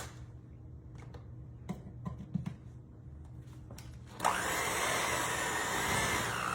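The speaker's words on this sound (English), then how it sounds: "Let's get that creamed together until it's smooth. Let's plug up our hand mixer." Soft clicks and handling noises, then a hand mixer suddenly whirs to life, a loud steady motor drone creaming cream cheese and peanut butter together in a bowl, continuing close until the end.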